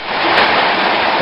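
Hard rain pours down outdoors in a dense, steady roar of hiss that fills the short moment evenly, loud and close with no voices.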